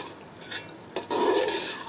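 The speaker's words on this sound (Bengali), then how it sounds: "আমি চিকেনটা কষায় নেব।" Chicken pieces are sautéed and stirred in a pot for khichuri, giving a brief scrape of a spoon against metal and then a louder sizzling rub that lasts about a second, close up and with no talk.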